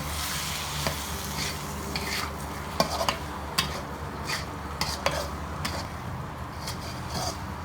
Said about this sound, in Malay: Okay, kita gaul untuk 1 minit.